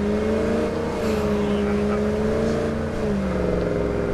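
In State of Decay 2, a car drives off with a loud, steady engine hum that rises and dips slightly in pitch as it pulls away.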